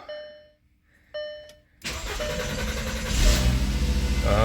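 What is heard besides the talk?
2004-2010 VW Beetle 2.5L car engine starting up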